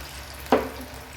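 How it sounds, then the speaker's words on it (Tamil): Chicken pieces dropped into hot oil for chilli chicken give one short splash and sizzle burst that quickly settles into a low, steady background. "ஆயில் நல்லா காஞ்சிருச்சு இப்போ நான் சிக்கனை போட்டுக்கிறேன்"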